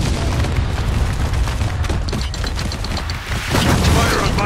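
Mortar fire and explosions in the war shooter Spec Ops: The Line, a dense, continuous barrage of booms and blasts with rumbling low end and scattered sharp bursts, loud and sustained throughout, with faint voices underneath.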